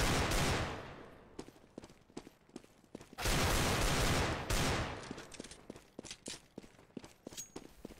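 Pistol round gunfire in the video game CS:GO, sharp repeated shots in bursts with longer sustained volleys, loud and close, with no talking.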